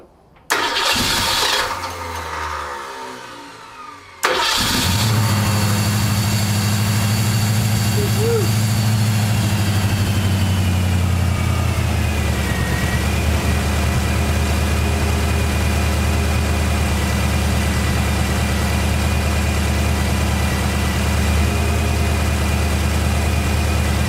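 A car engine fitted with Holley Sniper EFI cranks briefly, then catches and settles into a steady, close idle that runs loud and even for the remaining twenty seconds, with a slight shift in tone partway through.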